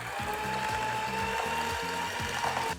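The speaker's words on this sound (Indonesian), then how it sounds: "ini kita aduk menggunakan mixer. Dengan kecepatan pelan dulu." An electric hand mixer beats brown sugar and butter together at low speed, giving a steady, close whirring motor hum with a repeating rhythmic clatter from the beaters.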